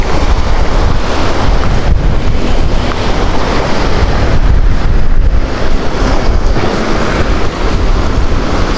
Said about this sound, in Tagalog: Ay grabe, ang lakas ng hangin sa laot guys